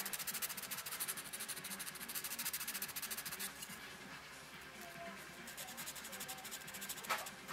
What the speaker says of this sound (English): I don't want to over sand it though too.